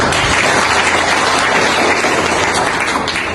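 A room full of people clapping for an English teacher at a gathering, a loud, dense, continuous round of applause that runs evenly and eases off only at the very end.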